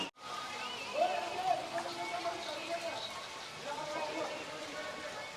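Water from the Gaumukh spring at Chittorgarh Fort falls without pause into a pool, making a steady, close rushing and splashing wash that holds at an even level throughout.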